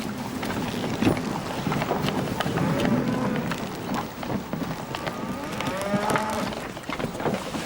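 Cattle moo repeatedly aboard a ship, the calls overlapping with creaking, splashing and shipboard bustle, fairly loud and close throughout.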